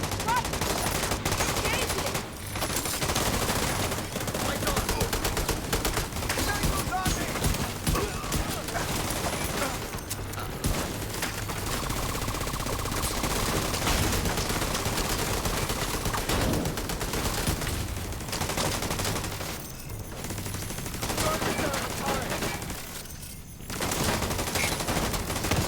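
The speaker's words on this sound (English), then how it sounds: "Where is those bullets coming from?" Sustained heavy gunfire from The Division 2, dense automatic bursts and rapid volleys of bullets filling nearly the whole stretch with almost no let-up, loud and close, with faint voice fragments mixed in.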